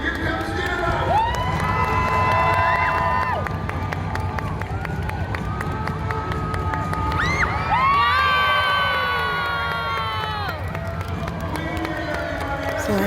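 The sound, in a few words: crowd clapping and cheering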